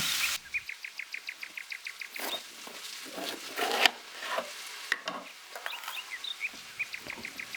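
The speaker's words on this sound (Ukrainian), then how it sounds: "Цибулю тушкувати надто сильно не потрібно, лише до легкого карамельного відтінку." Onion softening in a pan for a beetroot borscht base, giving a faint, soft crackle with light scraping and tapping of a utensil, quiet and close, with no voices.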